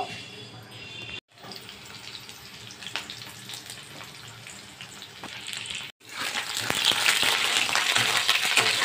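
Cut leafy greens are being washed under running water in a home kitchen. The tap runs in a steady rushing stream with intermittent splashing and handling, and it grows louder and fuller near the end.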